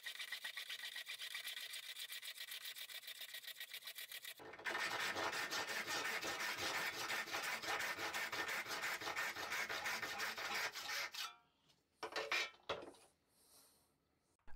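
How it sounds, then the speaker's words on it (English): A handsaw rips a wood piece in half along the grain, with steady rapid back-and-forth strokes that grow louder and denser midway, then break off into a few short scrapes and pauses. "then I set to work sawing the other piece in half along the grain"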